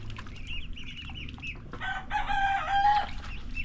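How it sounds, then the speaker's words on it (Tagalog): Native chicken chicks peep in quick high runs, then a louder, harsher adult chicken call breaks in near the end, all over a steady low background hum. "Mga sisiw pa lang."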